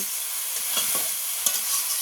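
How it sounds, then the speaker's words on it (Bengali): Spices fry and get stirred in a pan ahead of a Bengali pigeon meat kosha, a steady close sizzle broken by a few spoon scrapes and clinks, with no talking. "ভালো করে আমার মশলাটা ভাজা হয়ে গেছে"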